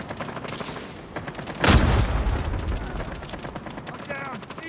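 Gunfire in the Call of Duty Mobile video game crackles as rapid shots, with one loud blast near the middle over a continuous battle din, and a game voice calls out briefly.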